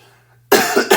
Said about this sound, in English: That was just a regular cough.